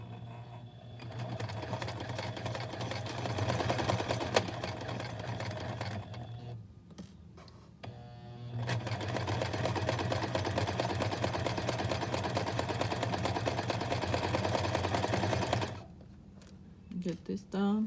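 Sewing machine stitching an invisible zipper, running in two long steady bursts with a short pause between them, then a few brief stops and starts near the end.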